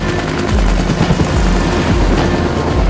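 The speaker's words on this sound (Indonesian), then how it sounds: "HN segera menjemput En-sung dengan helikopter menuju tempat perburuan" A helicopter rotor thuds loudly and steadily throughout, a close, continuous chopping drone with rhythmic low pulses and no voices.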